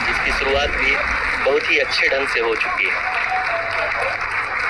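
Applause and cheering from a mission control crowd during the Chandrayaan-3 lunar landing rumble steadily in the background while someone speaks over it.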